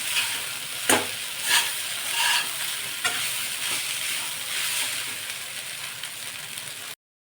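Vegetable fried rice stirred in a frying pan, with a soft steady sizzle and a few scraping spatula strokes at the start, fairly faint, before the sound cuts off near the end.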